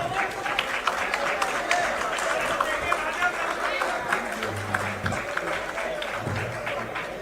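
Audience applause for guests at a book launch honouring Mallikarjun Kharge, a steady wash of clapping from a large hall, with a voice speaking over it partway through.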